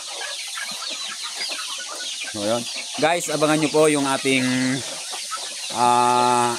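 Chickens on a poultry farm where laying hens are kept, clucking and squawking in bursts near the microphone, with someone talking over them at the start.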